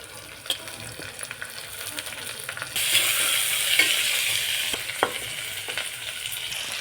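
Vegetables being added one by one to hot oil with sautéed onion and whole spices for veg biryani made with home rice, sizzling and crackling steadily, louder and brighter after a few seconds, with occasional stirring clicks.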